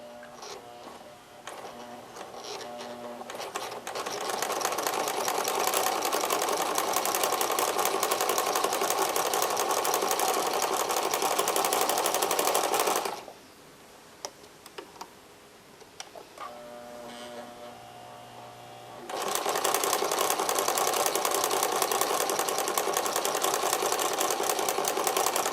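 A sewing machine stitching appliqué runs in a steady, loud, rapid whir close by, pauses briefly in the middle with a few soft knocks, then resumes at full speed.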